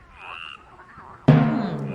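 A cartoon frog croak bursts in suddenly after a quieter soft tone, loud and resonant, holding for under a second in a children's lesson setting.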